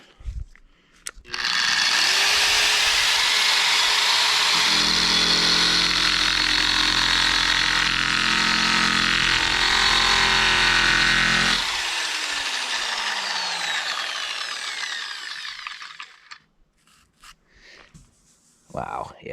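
A handheld power tool runs loud and steady for about ten seconds, grinding a 120 grit abrasive against badly rusted metal, then winds down and trails off as the motor spins out.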